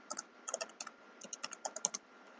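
Code being typed on a computer keyboard, heard as a quick irregular patter of light key clicks up close at low volume with no talking.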